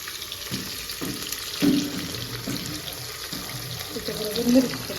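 Tap water runs in a home kitchen while rice is washed for a meal, a steady close hiss of flowing water with some splashing and clatter, and a voice talking faintly in the background.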